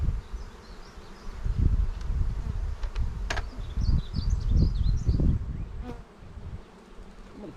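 Honey bees buzzing around an opened hive during frame handling, a dense continuous hum with individual bees flying close past, plus occasional rustles and knocks of the frames.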